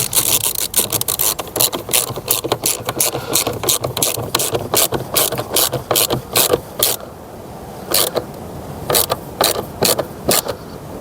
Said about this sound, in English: Now I'm going to put the 10mm bolt back in there.